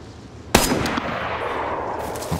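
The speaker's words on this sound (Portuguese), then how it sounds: "Tiro lá em Berezino." A single sharp gunshot cracks out in the DayZ survival game near Berezino, sudden and loud with a lingering echoing tail, followed by a fainter second report.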